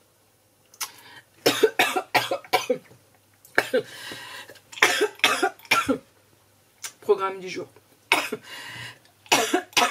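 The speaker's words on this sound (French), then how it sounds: "Arrêtez de tousser" Several sharp, harsh coughs ring out close by in bursts across the clip, and a person talks briefly between them.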